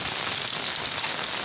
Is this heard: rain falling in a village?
yes